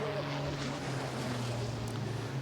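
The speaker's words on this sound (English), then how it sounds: "A little bit of black smoke from the trucks as they come then up through the gears now." Racing trucks at the Nürburgring in a European truck racing championship race, a loud, steady engine drone with strong low harmonics that rise in pitch through the gears, over wind noise and a faint commentator voice.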